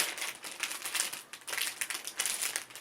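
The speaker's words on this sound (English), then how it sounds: "So much crinkling, I apologise." Crinkly fibre packaging handled at close range, rustling in a series of dense, uneven bursts throughout, with no talking.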